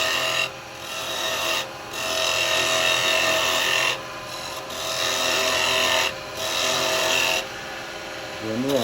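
A carbide chisel cuts a natural-edge firewood bowl spinning on a wood lathe, making a loud, steady scraping hiss in long passes with short breaks between cuts.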